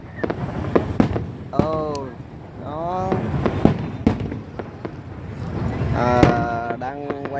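Repeated booms and crackling bursts of New Year fireworks over the Saigon Bridge in Ho Chi Minh City, heard from a distance amid a crowd, with voices and whistling tones from the crowd mixed throughout.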